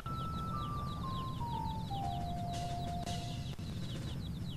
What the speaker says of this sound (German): Kleine Küken.